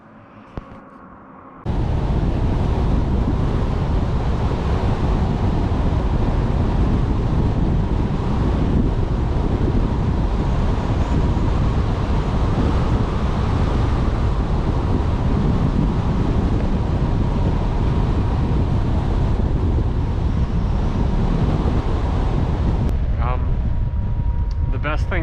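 A strong headwind buffets the microphone of a cyclist on the road, a loud, unbroken roar that starts abruptly and holds steady throughout.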